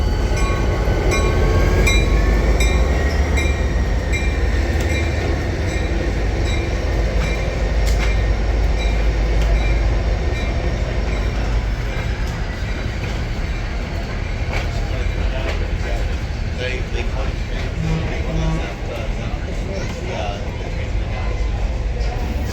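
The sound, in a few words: locomotive 504 hauling the Nebraska Zephyr train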